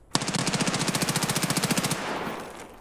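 In Escape from Tarkov, a single automatic weapon fires a fast, even burst of roughly two dozen shots lasting under two seconds, sharp and prominent, then cuts out and leaves a fading echo.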